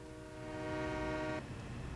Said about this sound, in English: Got to honk the horn as we go through.